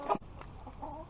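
Chickens cluck up close at feeding time, a short throaty call at the start followed by softer low clucking and shuffling in a farm animal pen.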